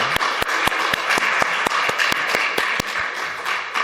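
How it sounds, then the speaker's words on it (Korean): Rhythmic unison clapping from a church congregation at a Sunday worship service, steady beats repeating about every quarter second, loud and full with a broad wash of sound between claps. "모든 영광 하나님께 영광의 박수 올려드립니다."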